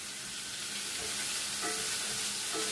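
Honey shrimp sizzling in a hot pan while being stirred, a continuous close frying hiss with a few soft utensil scrapes and clinks, no voices present.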